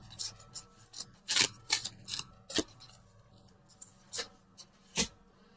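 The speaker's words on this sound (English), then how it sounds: "So let's pull on the Universal Love cards." Oracle cards pulled from a Universal Love deck give a run of crisp, sharp card snaps and flicks, close and fairly loud in an otherwise quiet room, with no talking.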